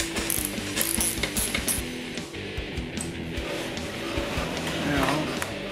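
A hand ratchet clicks rapidly and close while loosening a brake caliper bolt on a Yamaha FZ-07 motorcycle, a steady run of metallic ticks that slows and fades toward the end.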